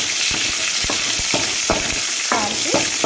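Mustard seeds, a small onion and a pinch of asafoetida tempering in hot oil in a kadai for greens sambar, a loud close crackling sizzle broken by repeated sharp stirring scrapes, no voices.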